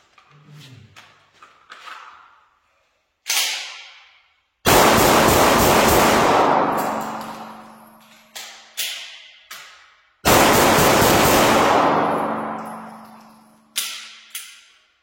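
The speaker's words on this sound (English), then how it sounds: "I'm going to go 5 shots left target, transition to the second mag, and then 5 shots on the right target" A handgun fires five shots at a left target, pauses for a magazine change, then fires five more at a right target on a shooting range, loud sharp cracks with ringing decay, spaced rather than rapid.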